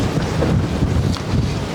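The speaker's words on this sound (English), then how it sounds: "Yeah, very windy today." Strong gusty wind buffets the microphone outdoors beside an old cabin, a steady loud rush with no one talking.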